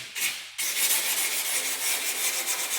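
Sandpaper is rubbed slowly by hand over thin, one-millimetre natural wood veneer on a table, giving a steady close raspy scratching. There is a short pause near the start.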